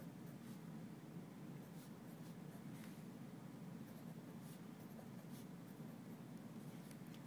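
Pen or marker scratching on a surface while a chemistry Lewis structure is drawn, a faint continuous scratchy rustle over a low steady background hum, with no voice.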